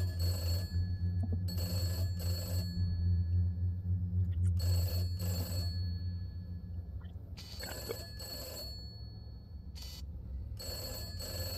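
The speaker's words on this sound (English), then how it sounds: "Please pick the phone up." An old telephone rings in repeated paired bursts with gaps between them, fairly clear over a low steady hum, with no one speaking.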